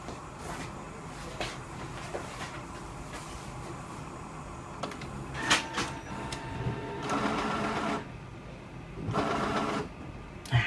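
Steady mechanical whirring and grinding from a Brother T300 inkjet printer drawing ink into its print head after refilling, with repeated clicks and short bursts of motor noise over about ten seconds, close and moderately loud.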